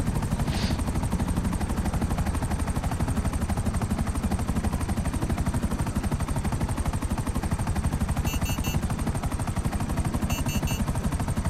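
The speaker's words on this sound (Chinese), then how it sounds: "那根本是攻击直升机部队了。" An attack helicopter in GTA Online roars steadily with a thick rotor chop, while bursts of machine-gun fire rattle close and loud throughout, with no talking.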